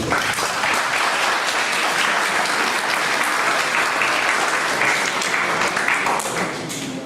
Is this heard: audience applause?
yes